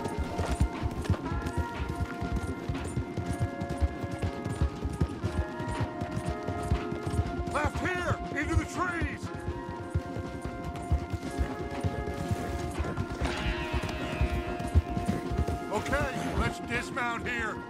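Horses galloping hard in Red Dead Redemption 2 as riders flee, a dense steady clatter of hooves running the whole way under loud music and bursts of talk.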